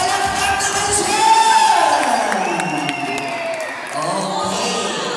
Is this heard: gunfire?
no